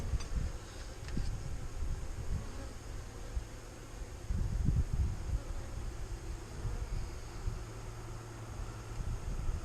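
Bees buzz continuously and close around a queen cage in a package hive, a steady droning hum with a few louder swells and no talking.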